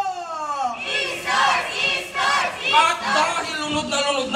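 Dense, lively crowd noise at a 2019 town fiesta parade in Masinloc, a steady roar of many voices and cheers rising and falling close by, with no single clear speaker.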